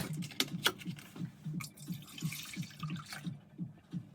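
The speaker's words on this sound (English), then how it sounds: "Pour the 2 liters of milk." Milk pours steadily into a pot, with a rhythmic glugging pulse and a few light splashes, close and fairly quiet.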